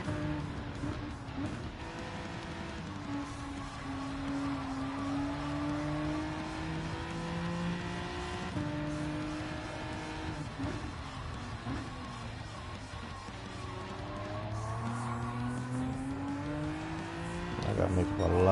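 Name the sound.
race cars driving in Gran Turismo 7 video game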